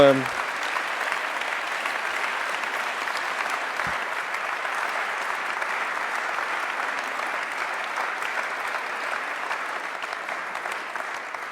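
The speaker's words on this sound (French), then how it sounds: "Et on peut tous applaudir Alban" Sustained audience applause at an award ceremony, a dense even wash of clapping from a crowd that carries on without letup.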